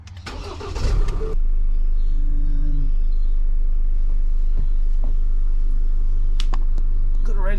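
A car that has sat unused for three weeks cranks briefly and fires up, then settles into a loud, steady idle close by, with a few faint clicks over the running engine.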